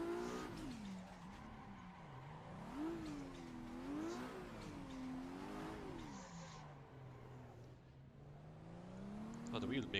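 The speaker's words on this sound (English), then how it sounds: "the wheel making a weird like meow sound there" A car in a late-night drifting video game makes a wavering, rising and falling whine that sounds like a cat's meow, sliding up and down in pitch over engine and tire noise, with quiet talk underneath.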